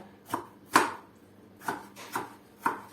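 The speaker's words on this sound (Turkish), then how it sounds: "Şimdi bir tane de domates doğrayacağım." Five sharp knife chops through a tomato on a cutting board, spaced irregularly, close and crisp in a quiet room.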